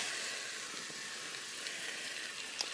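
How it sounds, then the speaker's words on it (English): Shrimp shells frying in a couple teaspoons of vegetable oil in a pan over high heat, a faint continuous sizzle and hiss with a small pop near the end. "I add the shrimp shells"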